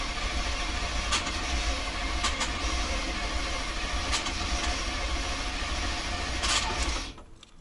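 A 1990 GMC 350 V8, freshly swapped in and likely out of time, cranks steadily without catching in a continuous droning whir that holds for about seven seconds and then cuts off, with no voices.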